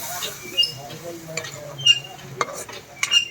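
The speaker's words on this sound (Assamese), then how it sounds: "এতিয়া মই হিলাই দিছোঁ আৰু কচুটো" A spoon scrapes and clinks against a pot while taro and fish curry is stirred, giving irregular soft scraping with a few sharper metallic taps over a low simmering hiss.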